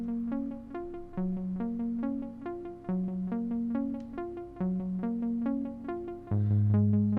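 A simple, stabby synthesizer patch from a second track plays alone, short plucky chords repeating in a steady pattern, ending on a sustained low chord.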